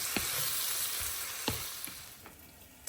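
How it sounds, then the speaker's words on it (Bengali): Raw banana slices frying over medium heat in a pan, a close, steady sizzle and crackle with a few soft stirring knocks scattered through. "এটা শুধু ভাবে করে এখন ভাজা ভাজা করে নিবে আর কি, যতক্ষণ সময় লাগে, মিডিয়াম হিটে"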